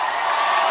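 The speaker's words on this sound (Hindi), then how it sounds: "प्लीज वेलकम दमदार," Brief burst of loud studio audience applause and cheering greeting actor Sunny Deol on a comedy show, a dense, continuous wash of clapping from a large crowd.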